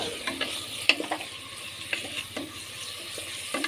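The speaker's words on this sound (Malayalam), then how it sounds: "ഞാൻ ഇളക്കാം." Biryani ingredients being stirred in a cooking pot, with a steady sizzling bed and repeated scraping strokes of the spoon at an irregular rhythm, close and moderately loud, no talking.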